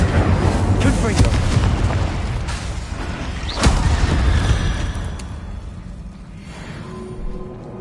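Repeated booming spell blasts from Bombarda and fire casts in Hogwarts Legacy, loud and dense across the whole span, with one sharp impact near the middle and a voice speaking over the blasts.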